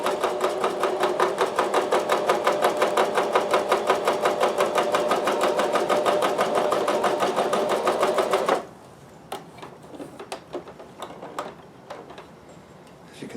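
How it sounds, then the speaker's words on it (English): A cover stitch sewing machine stitching stretchy fabric for underwear made from recycled socks, running in a fast, steady mechanical rhythm for about eight seconds, then stopping and leaving soft handling clicks and rustles. "There's no point in having a cover stitch machine if I can't use it for stuff like this."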